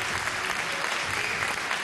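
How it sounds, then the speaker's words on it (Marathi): An audience at a housing key-distribution ceremony breaks into loud, steady applause, a thick, continuous sheet of clapping from a large crowd filling the whole moment. "जोरदार टाळ्या त्यांच्यासाठी"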